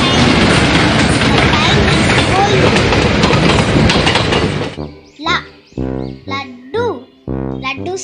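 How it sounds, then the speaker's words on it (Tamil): Train passing on rails, a loud dense rumble and rattle lasting about five seconds before cutting off, followed by someone speaking. "ரயில்."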